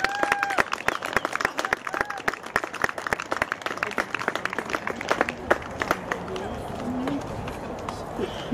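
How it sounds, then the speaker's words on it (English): Crowd applauding the seniors at a 2015 Shorewood vs Lynwood game, a dense, fairly loud patter of clapping mixed with cheers and people talking throughout. "Another round of applause for our seniors."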